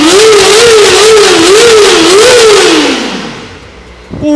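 A Kawasaki ZX-4RR sport motorcycle engine revs hard in repeated rising-and-falling bursts, loud and close, then winds down to idle before a short blip at the end.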